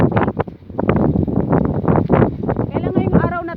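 Strong gusts buffet the microphone on a clean, quiet roadside in Europe during a bicycle ride, a constant low roar that surges and dips, with voices briefly audible near the end.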